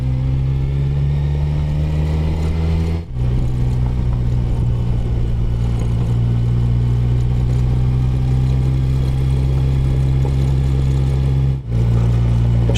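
Kawasaki Versys 1000 motorcycle engine pulling steadily in second gear on a slow mountain descent, a loud, continuous droning hum with strong low harmonics, broken by two brief dips in power.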